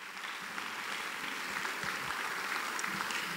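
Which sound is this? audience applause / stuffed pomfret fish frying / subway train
audience applause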